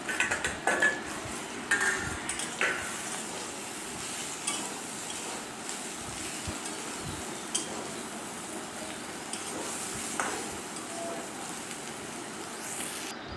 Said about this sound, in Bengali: আমি এখানে উচ্ছেটাকেও একটু কড়া করেই ভাজবো